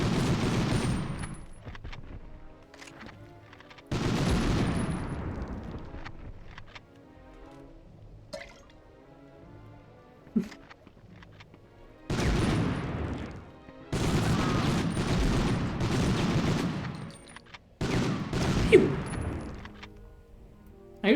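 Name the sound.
explosions and gunfire in video game Medal of Honor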